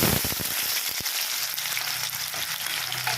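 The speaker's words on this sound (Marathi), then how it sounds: "आता आपण कांदा आणि तंबट भाजून घेणार आहे" Onion and tomato sizzle hard in hot oil in a kadhai, a loud continuous frying crackle with a few sharper pops near the start and no talking.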